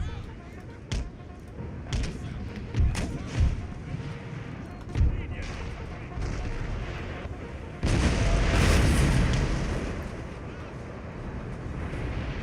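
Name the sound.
cannon fire in a video game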